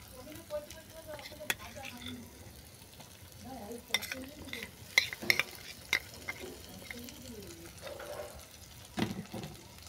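Poppy seed paste is stirred into oil-released, well-fried spices in a pan for a fish jhal with pumpkin bori, giving a soft, steady sizzle with scattered spoon scrapes and a few sharper knocks against the pan.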